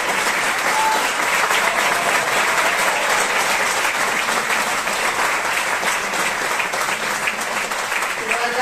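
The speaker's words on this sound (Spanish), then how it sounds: "hay un gran aplauso al maestro Salvador Sotelo" Loud sustained applause from a theatre audience at a tango performance in Madrid, dense and even from start to finish with a crowd murmur underneath.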